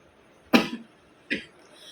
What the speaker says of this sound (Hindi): कभी ये वाला जो खाँसी है, ये मुझे बहुत ज़्यादा अंदर से झकझोर के रख देती है